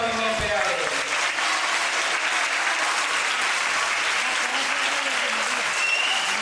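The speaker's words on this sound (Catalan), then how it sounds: "Un aplaudiment per a ell." Sustained applause from a school theatre audience for a five-year-old child performer, a dense, even wash of clapping that runs loud throughout, with a voice briefly audible near the start.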